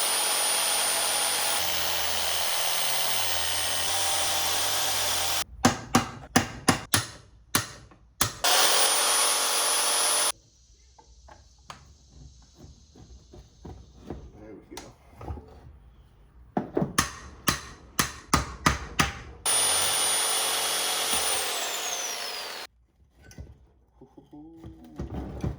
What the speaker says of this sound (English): I got metal blade on a Sawzall, and I'm gonna cut this rod right in half.